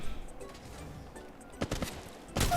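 Bursts of gunfire from the mobile shooter game Apex Legends Mobile rattle out in short volleys, moderately loud against a low hum of game ambience.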